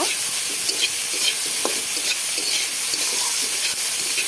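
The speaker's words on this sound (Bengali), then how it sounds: "দিয়ে দিলাম হলুদ এবার ভালো করে মিশিয়ে নেব" Chopped bitter gourd with salt, turmeric and green chilies sizzles steadily in a pan while being stirred, a continuous close, loud frying hiss with intermittent scraping strokes.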